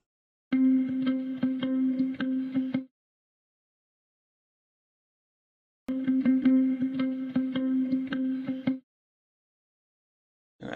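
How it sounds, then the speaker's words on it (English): A strummed guitar sample in an FL Studio beat plays two separate chord bursts with rapid strum strokes and a few seconds of silence between them, clean and close. "found another guitar sample is more like a strum"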